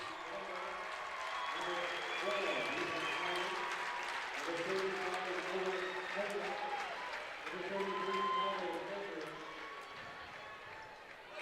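A crowd at a high school basketball game, Dover at New Philadelphia, applauds the Tornadoes' starters as they come off. The clapping rolls steadily beneath a commentator talking throughout.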